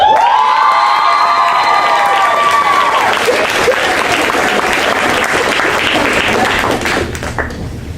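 Loud, wild applause bursts from a youth soapbox speech competition audience, with whoops and shrill cheers piercing the dense clapping early on before the crowd noise settles into steady, slightly thinning clapping.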